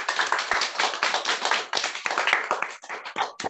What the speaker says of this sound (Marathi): आपण सगळेजण टाळ्या वाजून त्याचं स्वागत करूयात